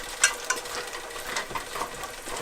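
Chicken with caramelized onions cooking in a pot, giving a steady close sizzle with soft stirring clinks and scrapes near the start, continuous and moderately loud.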